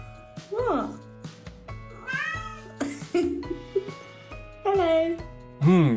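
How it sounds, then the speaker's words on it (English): A fearless kitten meows repeatedly in short rising and falling cries, close and clear, several calls in a row over a steady low background hum, with a person's voice also present. "I think the cat is calling its best friend, the dog, to come and play."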